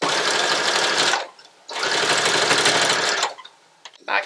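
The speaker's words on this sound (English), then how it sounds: "Always start with the back stitch, and we are going to begin sewing." Sewing machine stitching a bikini swimsuit, two fast, loud, close runs of rapid needle clatter separated by a brief pause, ending with a short burst.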